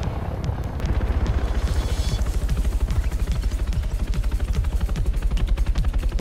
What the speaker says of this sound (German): Heli direkt über mir.